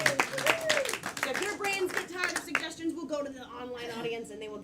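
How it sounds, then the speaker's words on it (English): An audience at a live improv comedy show claps for a crew member, a quick run of hand claps heard close, mixed in with a voice talking over them. "Everybody clap for Anthony, who's running our live stream tonight."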